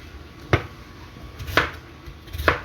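Rough chopping of food on a cutting board while making crockpot Italian chicken, three sharp knife thunks spaced about a second apart, close and fairly loud in a quiet kitchen.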